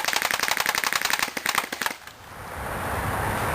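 A Crosman R76 AK-74U BB gun fires full auto in a rapid, even burst of sharp cracks for about two seconds, loud and close, then stops and a steady hiss follows.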